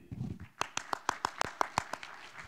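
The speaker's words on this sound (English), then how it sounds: "Once again, our applause for Madame Lin" Scattered claps at a Halal Taiwan Week opening ceremony, about nine sharp, separate hand claps in a loose rhythm after a brief murmur, close and moderately loud, too sparse to swell into full applause.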